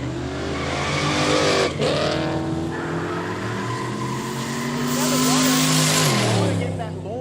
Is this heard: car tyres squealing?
yes